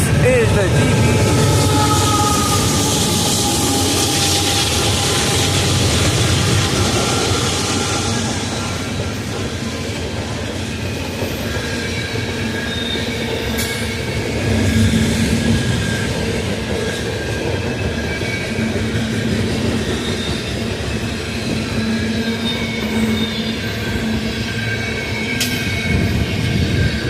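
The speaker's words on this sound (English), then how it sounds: "there goes CSX" A southbound CSX coal train with a DPU locomotive rolls past nearby, its loud, steady wheel and car rumble sustained throughout and easing slightly midway, with faint squeals and clatter on top.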